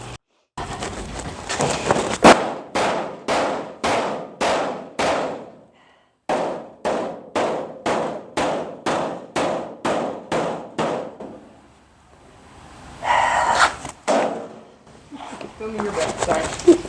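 Steady hammer blows on metal vents, rapid evenly spaced clanging strikes in two long runs separated by short pauses, loud and close, followed by a burst of talk at the end.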